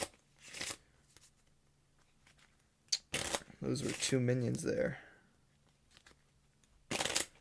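Short bursts of cards being shuffled, separated by quiet gaps, with a person talking in the middle.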